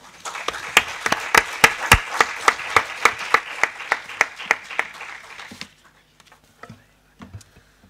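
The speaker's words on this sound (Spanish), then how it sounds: "Ahí es un aplauso que se lo merecen" An audience applauds at an educational conference on rare diseases, loud and sharp for about five seconds, then fades to a few scattered claps.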